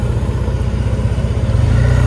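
A Triumph Bonneville motorcycle engine runs close by with a loud, steady, throbbing low rumble and a rapid pulsing beat, heard alone without talk.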